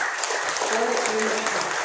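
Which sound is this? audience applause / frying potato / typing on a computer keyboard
audience applause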